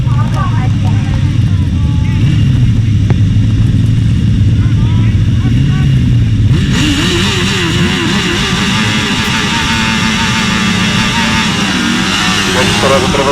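Grasstrack racing motorcycles at the 2004 British Masters roaring off the start and down the straight, a loud sustained engine howl that swells and shifts midway, with a commentator talking over it.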